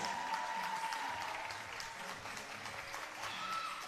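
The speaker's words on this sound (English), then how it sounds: "giving them a round of applause" Steady applause from the crowd at a 2022 CUNYAC community college women's volleyball championship, a continuous even wash of clapping holding at moderate level throughout.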